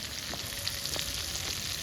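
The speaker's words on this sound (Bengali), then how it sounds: "চিংড়িটা একটু ভালো করে ভাজি নেওয়া হয়" Shrimp fry in oil with a soft, continuous sizzle and faint crackles, fairly quiet and even throughout.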